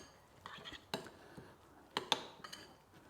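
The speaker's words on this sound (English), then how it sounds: "And then we start mixing that a little bit so we get the herbs together." Chimichurri herbs stirred together with olive oil and red wine vinegar in a bowl, giving a few sharp clinks and scrapes of a utensil against the dish, close and sporadic, with no talking.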